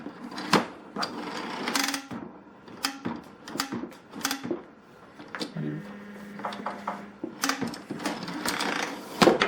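A ceiling-mounted Husky 3/8 in. by 50 ft. hybrid retractable air hose reel winds its hose back in. Close, uneven bursts of clattering, ratcheting clicks and whirring come in several spurts with short pauses between, and no one speaks.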